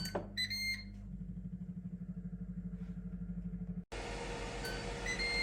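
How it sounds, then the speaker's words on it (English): A steady train of rapid electronic beeps from an air fryer, close and fairly loud, cutting off abruptly before a humming fan-like noise takes over. "And we've beeped."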